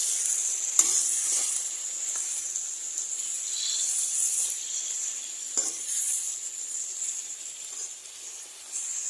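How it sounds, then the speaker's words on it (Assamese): Pork with onions fries in a pan, a continuous close sizzle and hiss with occasional soft scrapes as the meat is stirred, no talking. "ধুনীয়াকৈ লৰাই দিম"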